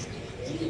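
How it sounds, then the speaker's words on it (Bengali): A pigeon at a home pigeon farm gives a short, low, soft coo, heard close against a faint background murmur. "দেখেন কত সুন্দর কবুতরের ডাক একদম কুরকুর করতেছে নাকি?"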